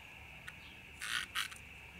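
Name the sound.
insect fluttering wings, cricket-like noise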